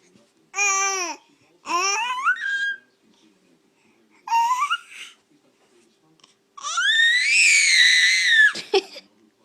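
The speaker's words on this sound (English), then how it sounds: "What are you screaming about?" A baby who has just learned to sit up lets out loud, close, high-pitched squeals and babbling in four separate bursts, with quiet pauses between them.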